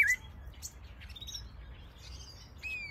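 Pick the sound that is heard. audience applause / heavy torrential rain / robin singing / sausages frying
robin singing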